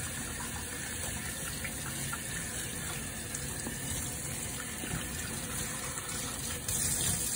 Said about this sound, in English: between each patient and prior to any procedure, we always do a thorough hand wash.